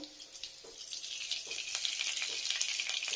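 Mutton ghee is added to a pan with crushed garam masala over low heat, giving a soft, steady frying sizzle that swells slightly, with faint scattered taps.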